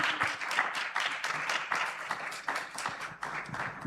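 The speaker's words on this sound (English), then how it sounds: "A big round of applause to Mohammed" A summit audience breaks into a sustained round of applause for a speaker, dense overlapping clapping filling the hall at steady loudness from start to finish.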